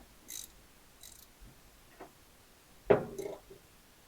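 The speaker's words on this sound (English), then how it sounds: "easily got a deep weld socket on there, ratchet, make sure that they're tight" A ratchet with a deep socket clicks in short bursts while tightening power steering fittings, a few sparse, close mechanical ticks and one louder clack amid quiet pauses.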